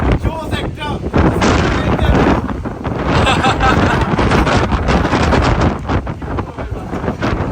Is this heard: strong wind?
yes